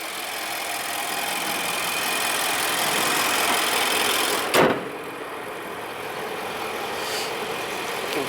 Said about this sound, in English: The V8 on this Infiniti is a little bit noisier than the Toyota.